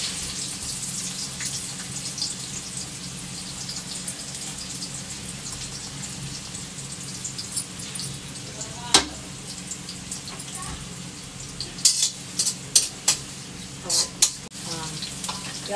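Onion frying in hot refined oil for homemade chowmein, a steady rain-like sizzle throughout, with a few louder clatters and stirring knocks toward the end.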